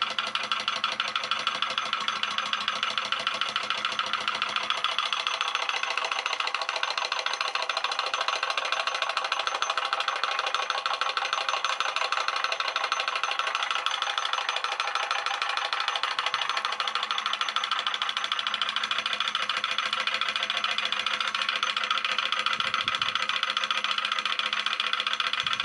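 A homemade hemi toroid pulse motor runs continuously, with a steady mechanical buzz and rapid rhythmic pulsing that sounds slightly rough and uneven, close and alone with no voices.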